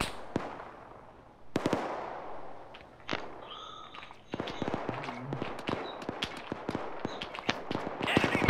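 Gunfire in ArmA 3 on the Takistan map, sharp scattered shots and bursts at varying distances, some near and some far, with occasional faint radio-like voices in between.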